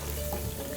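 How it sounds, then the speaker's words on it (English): Tennessee hot chicken deep frying in oil after about five minutes, a steady dense crackling sizzle with no voices over it. "Our chicken has been frying for about 5 minutes now."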